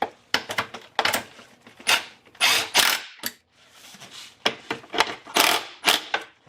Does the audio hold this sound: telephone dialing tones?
no